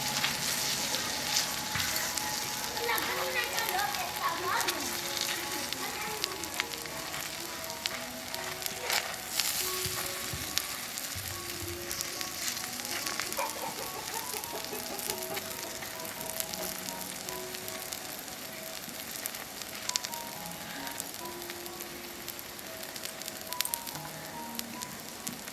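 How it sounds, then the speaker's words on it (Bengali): Batter for Bengali gola roti spread across a hot tawa gives a steady fine sizzle and crackle for the whole stretch, with soft scraping and clinks of a ladle or utensil and no voices. "এবার ব্যাটারটিকে খুব ভালোভাবে তাওয়ার চারদিকে ছড়িয়ে দেব।"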